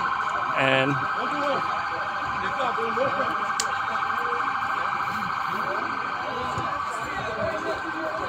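An ambulance siren wails steadily at the scene of a deadly riot, a continuous high tone holding under crowd noise and brief speech throughout.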